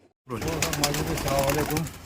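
Pigeons at a rooftop loft coo in a steady, low warbling drone that starts abruptly and continues close and clear, with a voice talking over it.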